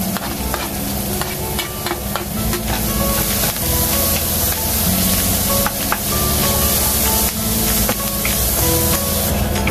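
Carrots tipped into a hot, oiled pan with curry leaves sizzle and spit steadily for upma, a Kerala-style breakfast, with brief stirring scrapes and clinks punctuating the continuous loud frying hiss.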